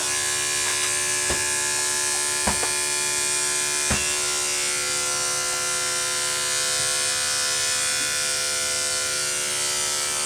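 A continuous electric buzzing hum of horse clippers running nearby, steady throughout, with a few brief clicks or taps early on.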